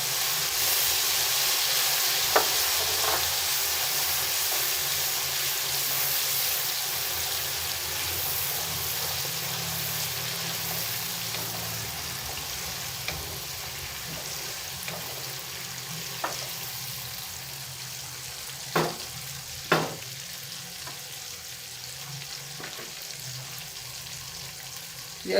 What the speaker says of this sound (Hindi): ये अच्छे से फ्राई हो गया।